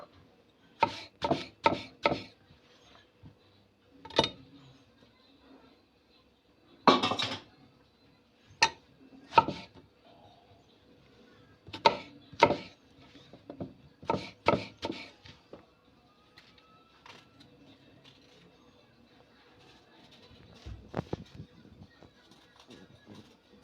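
A knife chopping eggplant on a cutting board for Antep-style türlü vegetable stew, sharp irregular knocks in quick bursts of three or four with pauses between, close and clear over a quiet kitchen.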